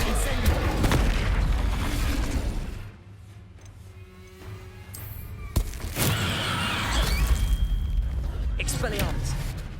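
Incendio fire spell cast in Hogwarts Legacy, a burst of roaring, booming magic impacts amid busy combat effects. A brief dip before the noise swells again with a sharp crack.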